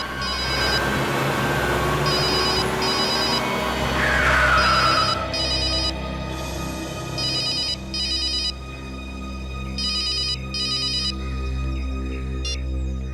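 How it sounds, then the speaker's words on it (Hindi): A telephone rings in repeated bursts, with clear breaks between the rings, loud and close in a quiet indoor setting. "सर आपका फोन लग रहा है।"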